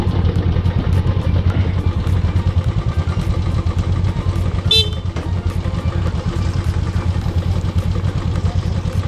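A car moves off at a mountain hill-station trip, its engine and road rumble steady and loud throughout, with one short horn toot near the middle.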